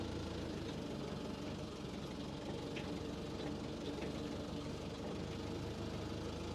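A forklift engine runs at low speed during training practice. The rumble is steady, low and faint, with a faint knocking vibration and no voices over it.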